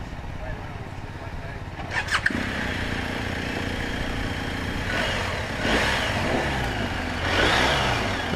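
A 2019 BMW R 1250 GS Adventure motorcycle cranks and fires with a brief starter whir, then settles into a steady idle and rises through several revs at close range, with voices talking over it at a demo day.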